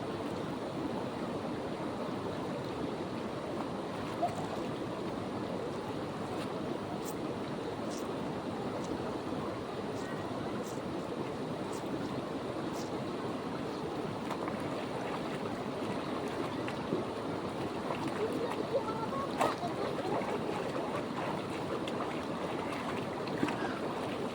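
Water from a very large river rushes and flows continuously, a broad steady wash heard close and moderately loud, with occasional faint clicks and splashes on top.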